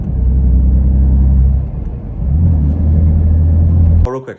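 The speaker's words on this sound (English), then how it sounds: "A little clunk when I get back on the gas." A BMW F82 M4 with an upgraded differential plate and solid aluminum bushings accelerates from inside the cabin with a loud, steady engine rumble, then eases off, and a short sharp clunk comes as the throttle is reapplied.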